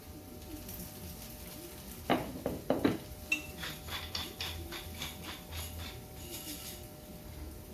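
Mushrooms tumbling into a pan already cooking onions, garlic and chorizo, a burst of clattering knocks and scrapes over a couple of seconds followed by lighter intermittent tapping against a steady low background.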